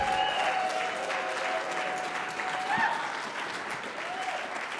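An audience at an adult Purim evening performance applauds the players. The clapping is a steady, dense wash with faint voices under it and no breaks across the whole stretch.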